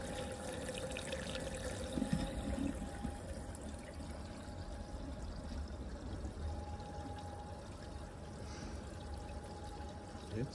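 Constant rushing and splashing of water pouring into a narrowboat's water tank from a hose, steady and unbroken, close by with no voices.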